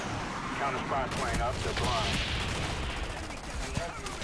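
Burst-fire M16 rifle shots in the shooter game Call of Duty: Black Ops ring out in quick, closely spaced cracks against a continuous busy battle backdrop, with distant gunfire and faint voices mixed underneath.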